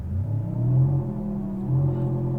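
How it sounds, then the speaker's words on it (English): A synthetic engine hum plays steadily through the cabin of a 2025 Genesis GV60 electric vehicle, low and droning, with a slight swell in pitch. "It will play an engine noise through the cabin"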